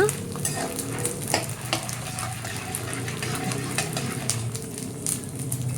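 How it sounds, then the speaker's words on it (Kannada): Sabudana frying in oil on a low to medium flame crackles and sizzles continuously, with scattered pops and spatters close by and no speech. "ಚೆನ್ನಾಗಿ ಲೋ ಟು ಮೀಡಿಯಮ್ ಫ್ಲೇಮ್ನಲ್ಲಿಟ್ಟು ಫ್ರೈ ಮಾಡ್ಕೋಬೇಕು ಅವನ್ನ"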